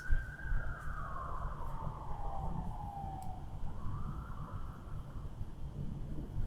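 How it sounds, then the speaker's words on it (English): A wailing siren sweeps down and rises again in the distance, steady over low rumbling background noise. "Don't like how those sirens cut out."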